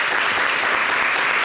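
An audience claps steadily and densely, a continuous wash of applause held at an even level throughout with no voices standing out.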